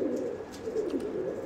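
Pigeons in a pigeon loft coo steadily and close by, with soft, continuous rolling calls and no talk over them.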